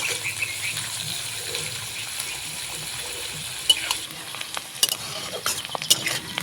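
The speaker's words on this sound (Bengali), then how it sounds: "পেঁয়াজগুলোকে ভালোভাবে ভেজে নেব।" Onions frying in a kadai, a soft continuous sizzle near at hand with occasional louder spatula clinks and stirring scrapes growing busier toward the end.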